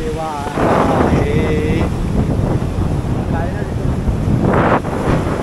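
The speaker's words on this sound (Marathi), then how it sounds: "आणि वारा तो भरपूर येत असेल इथे, धोकादायक ठिकाण" Strong coastal wind on the Konkan coast buffets and roars against the microphone, with surf rumbling behind it and voices briefly breaking through.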